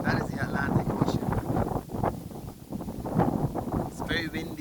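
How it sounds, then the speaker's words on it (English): Gusty wind from Atlantic breezes buffets a hilltop, rising and falling in strong rumbling bursts against the microphone while people talk nearby. "It's very windy up here, Atlantic breezes."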